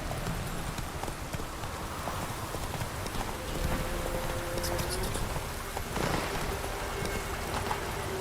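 Hoofbeats of Roach, the horse in the video game The Witcher 3, clip-clop in a steady galloping rhythm against a constant rainy ambient wash, with a faint tone drifting in partway through.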